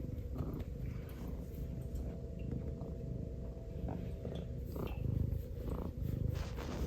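A cat purrs close by indoors, a steady low rumbling purr running through the whole stretch, with some faint household noise around it.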